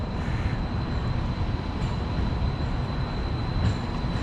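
A Seattle streetcar rolls past on its rails in a street with bike lanes, giving a steady, loud low rumble with faint high squeals from the wheels, and no voices.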